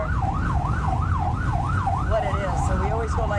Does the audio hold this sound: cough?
no